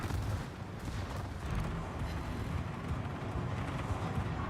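Secondary guns on a warship in World of Warships fire in a steady, dense barrage of booms, a continuous rumbling gunfire layered with bursts and no talking.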